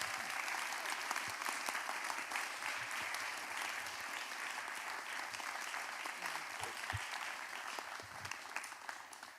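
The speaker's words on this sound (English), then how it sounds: "let's give Dan and Karthik a tremendous round of applause for all they're doing" Closing-remarks audience applauding two presenters at a data-science event, a dense continuous wash of clapping from a sizable crowd, fairly distant and even throughout with a few sharper claps standing out.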